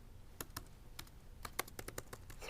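Fingers type on a computer keyboard, a quiet, close run of irregular keystroke clicks over a soft background hiss.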